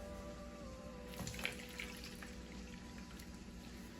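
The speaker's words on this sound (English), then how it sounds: "I'm going to separate water from my mushrooms." Water from a can of mushrooms drains quietly into a sink in a home kitchen, a faint trickle and a few small splashes over low background hum.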